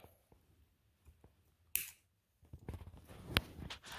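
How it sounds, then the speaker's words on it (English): Electrical scissors snip speaker wires while installing a Tsunami2 sound decoder in an Athearn RTR SD45T-2 model locomotive, giving one sharp close cut followed by a burst of small clicks and handling noise. "So I'm going to take my electrical scissors"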